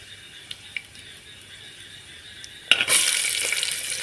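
Chana dal, urad dal and asafoetida are tempering in hot oil for a cauliflower dish. After a quiet stretch with faint ticks, a loud burst of crackling sizzle erupts and keeps going close up.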